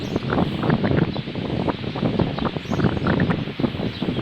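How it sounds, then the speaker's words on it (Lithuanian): Steady, gusty wind roars against the microphone with a soft rustle among trees in the Azores, loud and continuous with no voices. "Per vieną ausį eina vėjas, per kitą išeina."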